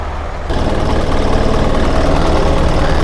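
A diesel engine on a 2018 Isuzu FRR dump truck idles steadily and close by, a loud continuous low rumble with knocking vibration that jumps up in level after a brief quieter start.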